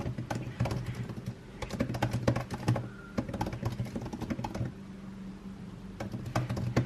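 Rapid speed typing on a computer keyboard, a dense stream of close clicking keystrokes in quick bursts with brief pauses, steady and moderately loud throughout.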